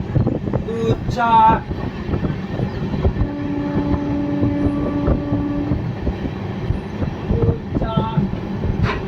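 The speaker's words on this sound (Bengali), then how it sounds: "আমি প্রায় 1 বছর পর ট্রেনে করে এই নসিপুর রেল ব্রিজ ক্রস করব" Sairang Express train rolling across the Nasipur rail bridge, a steady heavy rumble of wheels and carriages with a sustained horn-like tone in the middle, while people talk nearby over the noise.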